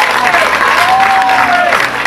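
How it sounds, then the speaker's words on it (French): An audience applauds at the Mister World Guadeloupe 2017 pageant, a dense steady wash of many hands clapping throughout, with a voice briefly heard over it. "Vous avez bien raison de l'applaudir"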